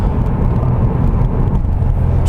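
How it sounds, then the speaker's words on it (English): A 2017 Subaru WRX cruising through a residential neighborhood, heard from inside as a steady low engine and road rumble that holds constant and close throughout. "I'm driving around through a kind of residential-ish neighborhood"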